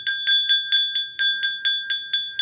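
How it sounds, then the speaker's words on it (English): A small hand bell rung before a tarot-style reading, about ten bright, evenly spaced strikes, each ringing with a clear sustained tone, loud and close with no talk. "I always ring my bell before I do some readings"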